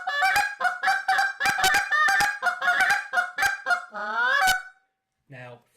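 A goose call blown up close, loud honking notes in quick uneven bursts, ending in a drawn-out rising honk and a short final clucking note.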